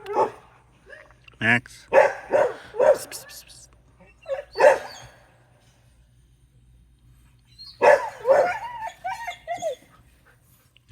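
Several dogs bark and whimper in a home, a run of sharp close barks and yips in bursts with quiet gaps between, and a person briefly calls out among them.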